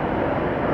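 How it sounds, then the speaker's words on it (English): A Frontier airliner passing overhead as a steady broadband roar, heard for a brief moment with no talk. "Man, that's a kick-ass airplane though."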